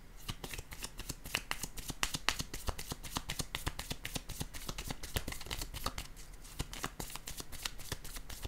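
Oracle cards are shuffled, handled and laid down, making rapid, crisp flicking and slapping sounds that are loud and close, continuing in a dense, busy rhythm with no talk.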